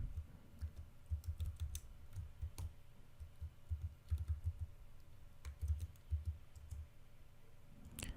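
Fingers type on a computer keyboard, entering a password at a terminal prompt: bursts of close, quiet key clicks with short pauses between them and no talking.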